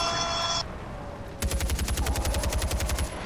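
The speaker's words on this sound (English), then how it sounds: "Oh no, that was a lot of shots." Rapid burst of automatic A-52 gunfire in the video game Far Cry 4, a steady run of evenly spaced loud shots following a brief quieter pause, with no talking.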